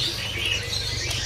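A murai Irian magpie-robin at a bird dealer's gives a short burst of faint, high chirps over steady low background noise.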